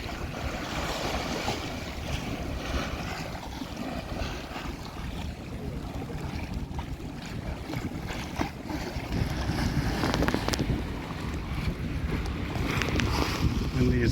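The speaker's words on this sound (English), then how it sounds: "Windy's out here." Steady wind roars across Lake Michigan with sailboats out on the water, a broad continuous rush that builds louder toward the end, with buffeting against the microphone and water sounds beneath.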